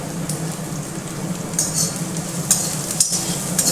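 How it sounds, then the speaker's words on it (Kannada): Onions sizzling in a pan with curry leaves, a steady close crackle of frying with occasional scraping stirs of a spoon against the pan. "ಇದು ನೋಡಿ ಕರಿಬೇವು ಹಾಕಿದ್ವಿ ಇವಾಗ ಈರುಳ್ಳಿ ಈರುಳ್ಳಿ ಹಾಕ್ತಾ ಇದ್ದೀವಿ"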